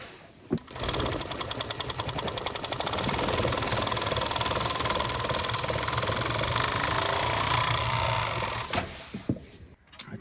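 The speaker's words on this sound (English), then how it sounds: "we're going to put this onto the overlock machine and wrap our edges" An overlock machine runs continuously for about eight seconds, wrapping the edges of new canvas for an old camp chair with a fast, even mechanical chatter, starting and stopping abruptly with brief handling clicks at either end.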